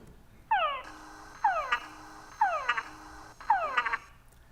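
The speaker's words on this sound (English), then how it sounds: "Now, to remind you, this is what the whine with chuck sounds like." A frog related to the túngara frog gives four evenly spaced whine-with-chuck calls, each a descending whine ending in short clucking chucks. The calls are clear and close over a faint, hissy background.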